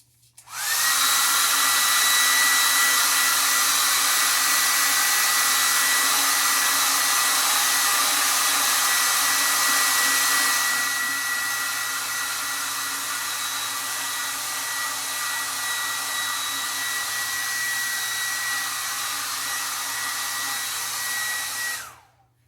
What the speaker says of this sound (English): I'm going to just blast this with the hairdryer